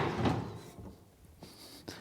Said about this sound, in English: So this drawer pulls all the way